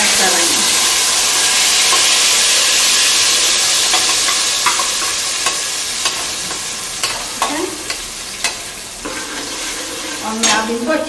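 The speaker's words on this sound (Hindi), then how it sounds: "और मैं अब इनको अच्छी तरह भूनूंगी।" Spices and curry leaves sizzle and fry in a hot pan for bhagare baingan, a steady loud hiss broken by scattered stirring clinks and scrapes, with no talking.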